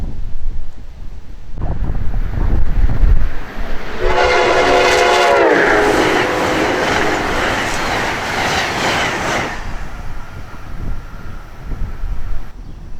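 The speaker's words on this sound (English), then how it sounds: "ACS 64s have beautiful horns. You can hear for yourself as one of them races south." An Amtrak ACS-64 electric locomotive horn sounds loudly for several seconds, overlapping the roar of the fast electric train rushing past nearby before fading.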